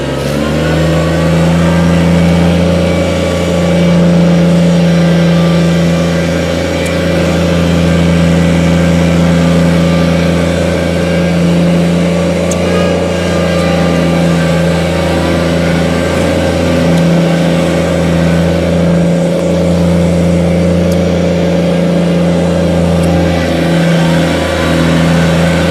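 A small compact tractor engine runs steadily in high range four-wheel drive, a loud, close, even mid-pitched drone with slight rises and dips in revs and no talking over it.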